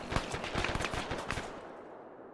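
Enemy gunfire in a video game shootout, a fast rattling string of about a dozen shots at a steady rhythm, fairly loud and close, stopping abruptly and fading out.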